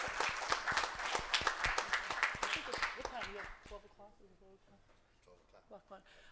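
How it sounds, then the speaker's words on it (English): Audience at a community workshop on human service workers in New York claps, sharp hand claps at first that thin out and fade midway, with a speaker's voice continuing afterward. "I'd like to give a clap of applause for all the human service workers in the city of New York."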